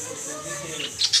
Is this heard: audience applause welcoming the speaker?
no